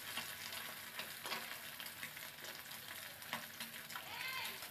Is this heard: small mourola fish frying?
yes